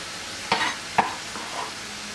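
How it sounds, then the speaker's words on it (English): A spoon stirs lentil soup with celery in a pot over a medium flame, giving two distinct scraping strokes and a softer third, close and clear over a faint simmer. "Give this a little stir."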